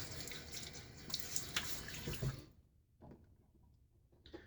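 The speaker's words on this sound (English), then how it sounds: "let me get my face wet right before I put on" Tap water runs steadily into a sink as a man wets his face before shaving. The splashing is close, stops abruptly after about two and a half seconds, and a few faint drips and movements follow.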